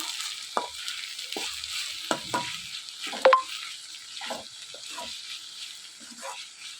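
Egg mixture with chilli powder stirred in a pan, giving soft scraping and wet mixing strokes at an irregular pace over a faint steady sizzle, fairly quiet and close, with no talking.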